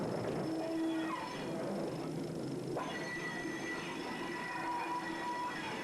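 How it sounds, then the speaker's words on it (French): Heavy 110-tonne iron ore trains run through an underground mine gallery in Lorraine, giving a steady, close rumble with long high-pitched wheel squeals sliding across the track throughout. "Les trains de 110 tonnes venant des quartiers, après une manœuvre, repartent avec 220 tonnes vers le culbutage."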